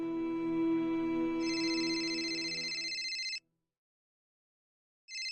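A telephone ringing, a clear electronic ring that shifts to a brighter, higher tone, stops abruptly, then starts again after a short silence, with no talking.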